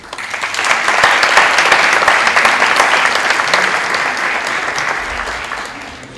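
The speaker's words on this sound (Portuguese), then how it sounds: "da qual eu pedia uma salva de palmas" Loud audience applause welcoming a presenter at the EVA 2015 event, building quickly into a thick, sustained clatter of many hands, then easing slightly near the close.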